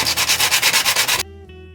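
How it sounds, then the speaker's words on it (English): Coarse 80 grit sandpaper scrubbed by hand over a Dollar Tree mirror frame, about ten quick rhythmic back-and-forth strokes, loud and close, then stopping abruptly. "you want to go ahead and take some of the Dollar Tree sandpaper"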